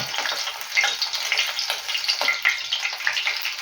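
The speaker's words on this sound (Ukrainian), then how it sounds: "Вмочуємо нашу рибу з двох сторін і викладаємо на сковорідку." Hake fish, dipped on both sides, sizzles in hot oil in a frying pan, giving a steady close hiss and crackle with small pops throughout and no talk.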